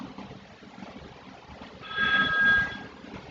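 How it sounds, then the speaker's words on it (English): A telephone rings during a guided breathing exercise in a session at a neurorecovery center, a short electronic trill that rises out of low background noise for about a second before fading. "Ignore the phone."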